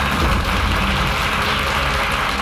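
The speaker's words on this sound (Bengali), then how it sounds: "জোরদার হাততালি।" An audience at a function gives loud, dense, sustained applause with steady clapping throughout and no speech.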